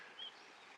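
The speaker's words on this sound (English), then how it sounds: "But I got the sound of some gurgling" Manitoba creek gurgling behind a prairie campsite, a soft steady wash of flowing water heard faintly from a short distance, with a brief thin bird chirp over it.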